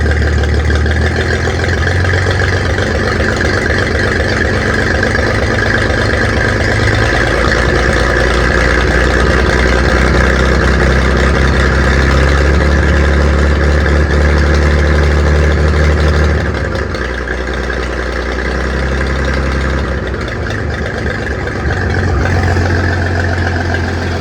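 The engine of a 1948 Oliver 70 tractor, just adjusted, idles steadily and up close with a constant mid-to-low hum and a slight dip in level near the end, with no talk over it.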